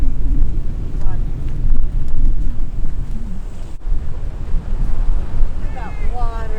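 Constant rushing ocean waves at a beach lagoon, steady and fairly loud, mixed with gusty wind on the microphone; faint voices come through near the end.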